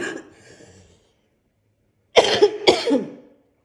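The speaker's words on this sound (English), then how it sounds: "It was a cough sneeze." A faint breath is followed by a pause, then two sharp, explosive bursts close together, a cough-like sneeze.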